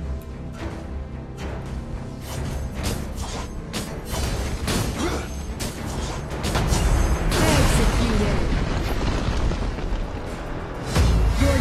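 Tower being destroyed in an Arena of Valor 5v5 mobile match, a loud dense wash of game effects with booming impacts, blasts and mechanical clatter building to a heavy crumbling rumble near the end.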